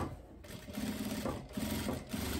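A sewing machine sews a finishing seam on wide-leg trousers, producing a close, rapid stitching rattle in short pulsing runs separated by brief slowdowns.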